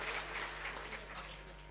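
Applause at a village mahapanchayat gathering welcoming a visiting mufti from Madhya Pradesh, faint and distant clapping over a low electrical hum, fading slightly toward the end, with no talk.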